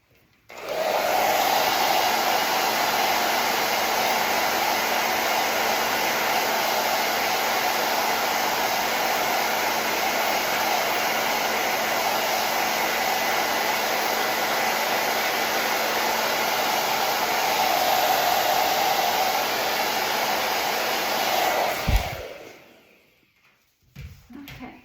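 A hair dryer blows on wet paint of a daisy painting, a loud steady whir running unbroken for about twenty seconds before switching off into near silence.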